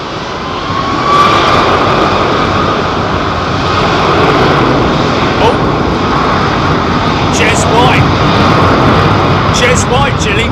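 Freighter aircraft departing a runway at London Heathrow, a loud, sustained roaring engine rumble that swells and holds, with people talking over it nearby.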